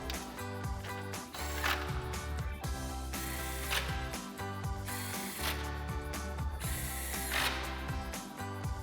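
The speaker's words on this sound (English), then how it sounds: "we'll reinstall the 4 10mm bolts up top with our 10mm socket" Bolts are run back in with a 10mm socket while a 2009-2018 RAM 1500 headlight is reinstalled, giving irregular close clicks and mechanical rattles over a steady background.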